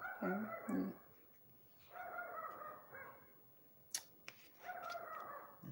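Small dog barking in a home kitchen during cooking, two or three short bursts of yapping at a distance, fairly faint, with no talk over it.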